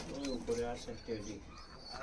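Punjabi Malwai high-flying pigeons at a loft give soft, low repeated coos, heard beneath someone speaking close by.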